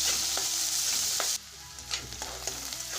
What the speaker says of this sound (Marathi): आणि त्याच्यामध्ये कांदा टाकते